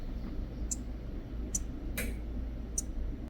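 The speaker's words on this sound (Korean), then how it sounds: "지금 또 보시면 이 친구들 막 짹짹거리는 소리가 들리실 텐데요" Mourning geckos give short, sharp chirps, four quick clicks spaced irregularly over a soft background hum, close and faint.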